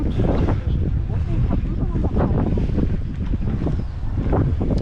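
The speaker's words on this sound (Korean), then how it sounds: "여기 확실히 바람이 많아서 있는 데인가 보다 바람 기가 막히네" Strong wind on Jeju Island blasts steadily across the microphone, roaring and buffeting outdoors with no letup, and low talk is faintly buried under it.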